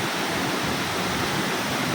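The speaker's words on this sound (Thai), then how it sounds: "เนี่ยบรรยากาศดีมากครับอยู่ตรงน้ำตกเลยนะฮะ แต่เสียงจะดังหน่อยแหละครับ" A waterfall at Khao Phu Tabaeng roars steadily at close range, a dense unbroken rush of falling water that fills the scene with no voices.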